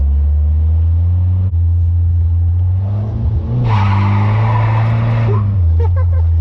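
A lowered 1982 Toyota Hilux pickup slides in a parking lot, its loud, close engine droning steadily as a rougher burst of tire scrub and revving rises midway and then fades. Voices may be faintly present.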